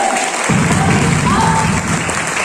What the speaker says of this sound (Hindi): एक बार अपने लिए जोरदार ताली फिर से।